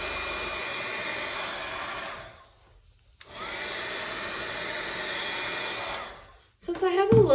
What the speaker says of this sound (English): I'm just gonna take that heat gun again.